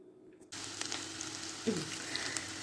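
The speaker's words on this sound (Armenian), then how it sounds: "այստեղ ես տապակում եմ մի քիչ յուղով" Butter frying in a pan for a green bean hot dish, a steady broadband sizzle that starts abruptly and holds on alone, with a brief small clatter midway.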